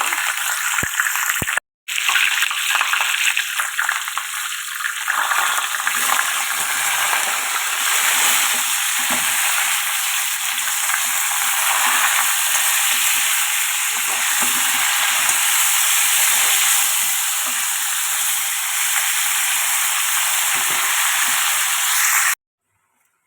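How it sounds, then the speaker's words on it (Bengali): Cumin seeds and dried red chillies sizzling in hot oil in a kadai, a loud, steady frying hiss that carries on nearly without a break before stopping abruptly. "তেলের মধ্যে দিয়েছি সাদা জিরে আর শুকনো লঙ্কা দিয়ে ফোড়ন দিয়ে"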